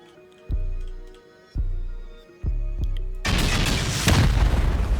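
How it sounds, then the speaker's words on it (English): Rocket blasts tearing through sheet metal walls in a survival video game: three deep booms at intervals, each with a decaying rumble, then a dense roaring burst of explosive noise. "We'll just finish these out with rockets though, and it'll take these sheet metal walls out"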